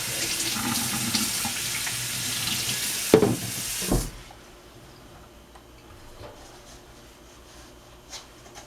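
A kitchen tap runs loudly for about four seconds as a muffin-making utensil is rinsed, then a clunk sounds as the water stops. A quiet room and a faint tap or two follow.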